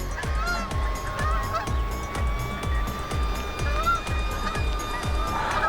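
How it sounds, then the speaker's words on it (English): Geese honk steadily across a field, heard over a loud, continuous whir with a low rhythmic thumping running through it. "but I can hear the sounds of geese"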